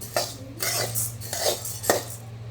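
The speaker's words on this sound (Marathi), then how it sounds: "गहू पण आपले भाजत आलेत. आता आवाज येतोय बघा, पुटपुट." Wheat grains dry-roasting in a pan, crackling and scraping as they are stirred, with several rhythmic swishing and clinking sweeps over a low steady background hum.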